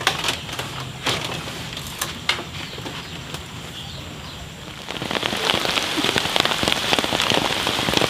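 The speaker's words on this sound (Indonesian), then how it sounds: "Aduh, hujan." Steady rain patters on a hard surface with scattered heavier drips, then grows denser and louder partway through as the downpour picks up.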